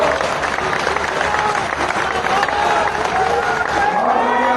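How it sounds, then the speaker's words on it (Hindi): A crowd at a political rally with Manohar Lal claps steadily throughout, loud and dense, with some voices mixed into the applause. "जोर से ताली बजाओ"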